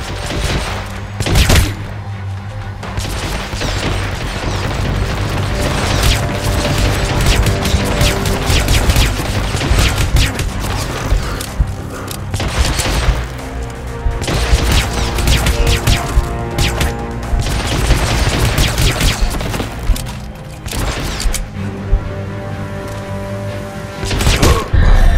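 Enemy gunfire in a stealth game section with guards, sustained rapid bursts of shots and impacts, loud and dense over a steady musical and ambient bed, with brief sharp cracks throughout.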